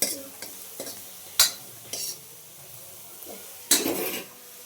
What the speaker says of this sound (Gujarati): આપણે વઘાર કરી દીધો છે કોબી છે ડુંગળી લસણ અને મરચું